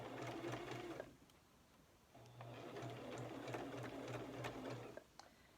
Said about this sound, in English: I'm sewing downward with the pleats.